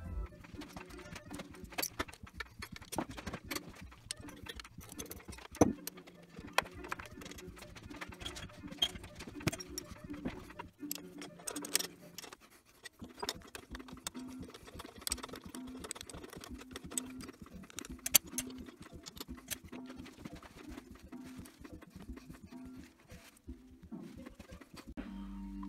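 Quiet, irregular metallic clicks, taps and rattles come from tools and parts as the carburetor and intake are removed from a 1981 Honda ATC 70. The handling sounds are scattered and soft, with brief pauses between them.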